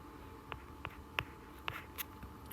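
A math expression being written for a geometry lesson sounds as a handful of short, separated taps and strokes, faint and fairly close, with no talking.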